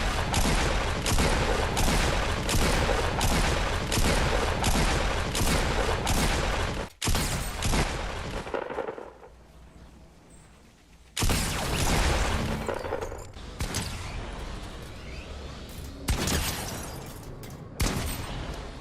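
Pump shotgun firing in the video game Fortnite: a rapid run of loud, close blasts with pump-action clatter, then a pause and a few more scattered shots and mechanical clicks.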